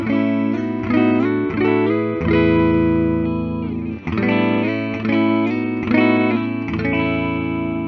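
A 2009 Gibson Explorer electric guitar with hot 496R pickups played through a clean tone, ringing strummed chords and sustained notes with slight chorus and reverb, close and alone.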